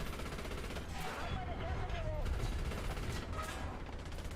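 Shots rattle in a dense, steady volley against the player in a shooter video game, running continuously and mixed with game noise and a talking voice underneath.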